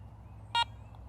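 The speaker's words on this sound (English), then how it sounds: "To power on the detector, simply press the power button." A single short electronic beep from a Garrett Ace 400i metal detector powering on, close and clean over a faint low hum, with silence either side.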